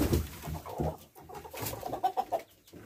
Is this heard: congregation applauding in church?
no